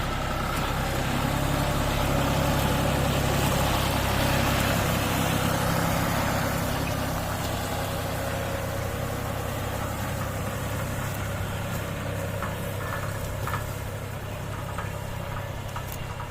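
A John Deere 5075E tractor with a 75 hp three-cylinder engine idles steadily, a loud, close, continuous low rumble with a slightly knocking texture and no talk over it.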